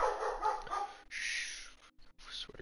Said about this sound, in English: Won't stop barking.